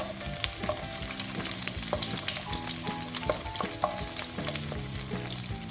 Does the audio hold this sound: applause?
no